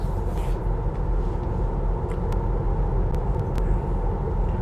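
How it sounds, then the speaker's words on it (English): An unused roof rack on a Tesla Model 3 SR+ drones steadily while driving, a continuous low wind roar and rumble inside the cabin with a few faint ticks, and no one talking. "that's a very loud and noisy roof rack that is not in use."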